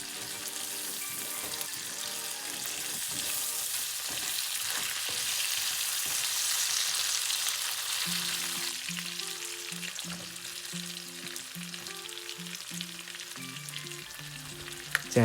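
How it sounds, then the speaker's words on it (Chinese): Lotus root slices stir-fried in a hot wok for a spicy Szechuan dish, with steady loud sizzling and frying throughout and occasional scraping of the stirring utensil, with no talk over it. "再加入藕片翻炒"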